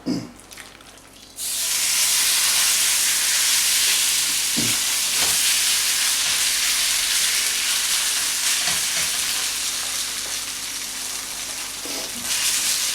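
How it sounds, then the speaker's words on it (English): Loud, steady sizzling as pork hits a hot wok, a continuous frying hiss with a few clanks, and no talking. "As soon as the meat touches, you want that sizzling, right?"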